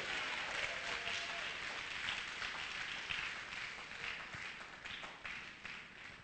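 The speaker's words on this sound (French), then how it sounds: "Applaudissez fort Jéhovah." A church congregation applauds loudly for Jehovah during a sermon, a dense, sustained roar of clapping that holds steady for several seconds with scattered sharper claps.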